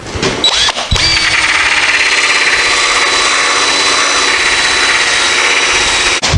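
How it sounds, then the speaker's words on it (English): A cordless drill whirs steadily and loudly at a low, even speed for several seconds after a couple of brief starts, with no voices. "So I'm using a slower speed drill here."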